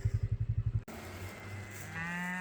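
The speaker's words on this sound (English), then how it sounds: "So I'm just bringing the cows off the hill into the in-by fields." Cattle being brought down off a hill to fields give a loud, close moo, followed by a rough engine drone and a long, low drawn-out call, with no talking.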